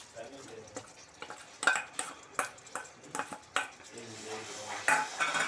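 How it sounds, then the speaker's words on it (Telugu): A spoon scrapes and clinks around a pot as blended ginger paste is stirred into sugar syrup, giving irregular metallic knocks and scraping strokes close up with a faint sizzle beneath. "అదంతా వేసుకొని కలిగి తిప్పుకుందాం"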